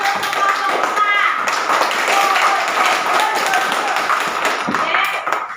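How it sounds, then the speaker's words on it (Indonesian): Classroom clapping for a student group during a school lesson, a dense patter of many hands with children's voices and chatter running over it throughout. "Tepuk tangan dulu untuk kelompok 4."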